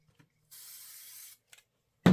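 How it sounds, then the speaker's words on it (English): Aerosol spray can giving fabric a short burst for quilting, one hiss lasting under a second, close and fairly quiet, followed by a brief soft rustle and a knock. "Give that a little shot of spray."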